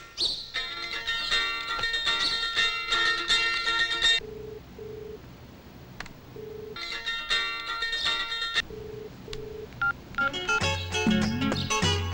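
Telephone keypad dialing tones from a Kannada film scene sound in clear bursts of rapid beeps, with short pauses between groups and a few single tones near the end, loud and close with no talking.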